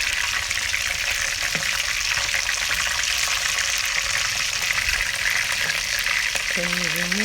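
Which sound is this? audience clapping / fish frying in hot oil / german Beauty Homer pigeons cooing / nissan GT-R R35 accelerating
fish frying in hot oil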